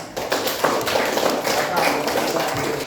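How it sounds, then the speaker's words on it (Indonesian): A class claps for a student group, a dense, steady patter of many hands at close range that continues throughout. "Sekarang tepuk tangan dulu buat kelompok 3 ya."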